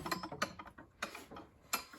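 Pegboard cabinet doors on hinges swing and rattle, producing a run of sharp mechanical clicks and clacks at an uneven rhythm, close and moderately loud, with no speech.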